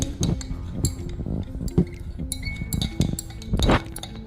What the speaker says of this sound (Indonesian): Nah, jadi kita aduk sampai benar-benar larut hingga menghasilkan